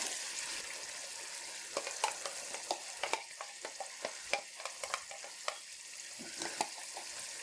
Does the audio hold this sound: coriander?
yes